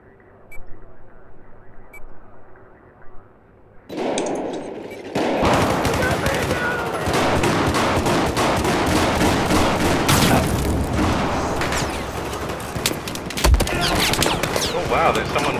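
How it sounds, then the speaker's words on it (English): Shotguns and other weapons fire in Battlefield 4 on the Operation Metro map, a few quiet bursts and then a dense, continuous barrage of loud close gunshots and booms with faint voices underneath. "So much shotgunning going on."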